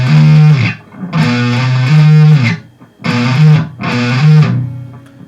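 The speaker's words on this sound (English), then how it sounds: "It's a slide and then a hammer on." Distorted electric guitar playing a solo phrase: a slide into a hammer-on, sounded as four loud sustained bursts separated by brief gaps, close and alone without voices.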